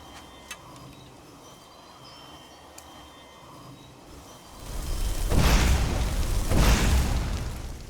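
A fire spell bursts in Skyrim with a rising whoosh followed by two heavy, roaring booms close together in the second half, after quiet ambient background with a couple of faint ticks.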